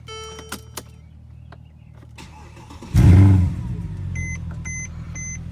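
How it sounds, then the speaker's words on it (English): A 2010 Mercedes C63 AMG fires up at about three seconds with a loud, sharp burst that settles into a steady, rumbling idle. Faint beeps and clicks come before it, and a few chimes follow. "I'm going to start this car."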